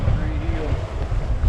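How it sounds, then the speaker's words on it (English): Strong wind roars and buffets the microphone aboard a MacGregor 26x sailboat heeling in gusts off Tampa and Clearwater, a loud continuous rush with low rumbling and a faint voice underneath. "Getting some gusts from time to time, pushing us over"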